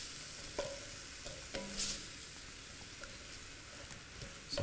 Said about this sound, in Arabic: نحركهم معاها